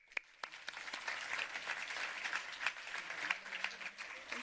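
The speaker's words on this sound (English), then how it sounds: "let's give it a big round of applause" A conference audience claps after a panel discussion, the applause starting with a few sharp claps and swelling into a steady, moderately distant round that continues to the end.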